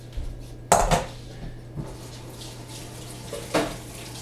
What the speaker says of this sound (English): Now we're going to rinse our potatoes out.